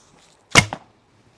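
A single sharp, loud crack from a Hungarian-style bow shot with the draw pulled to 28, followed by a short second snap, in an otherwise quiet setting, sounding like a pistol.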